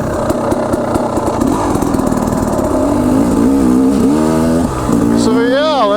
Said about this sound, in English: And my bike starts now thanks to firepower